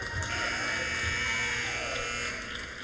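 Electronic horn ending the half at a summer league basketball game, one continuous loud buzz lasting nearly three seconds over gym noise.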